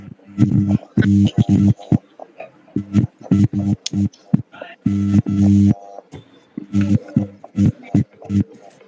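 A series of short electronic phone keypad tones beep in quick bursts and clusters, close by, with brief pauses between groups.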